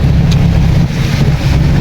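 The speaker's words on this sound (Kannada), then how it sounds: "ಮಳೆ ಒಂದ್ ಕಡೆ ಗಾಳಿ ಒಂದ್ ಕಡೆ" Heavy rain and gusting wind in Bidar make a loud, continuous roaring rush with a deep low rumble, close to the microphone and without any voices.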